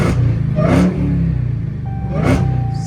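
A 2022 Dodge Challenger SRT Hellcat Redeye Jailbreak, rebuilt after front-end damage, revs twice in sharp, loud bursts over a deep idling rumble.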